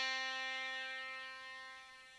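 Bright synth tone through a high-pass filter in Sonic, thin and buzzy with the low end stripped away, one sustained note fading gradually over about two seconds.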